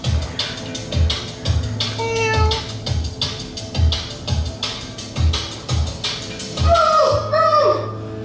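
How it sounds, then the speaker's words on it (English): A young male kitten meows repeatedly outdoors in a home garden, the cries rising and falling in short bursts over steady background hum, with a longer wavering meow near the end. "What's that, son? A kitten?"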